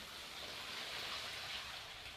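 Laundry water being poured from one container into another during hand-washing of jeans, a steady, continuous splashing stream that stays even and fairly loud throughout.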